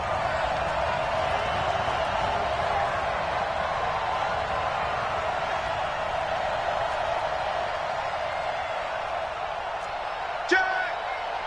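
Steady crowd roar filling an American football video game stadium before a big third down, a continuous broad wash of cheering noise under a commentator's voice, with one brief sharp knock near the end.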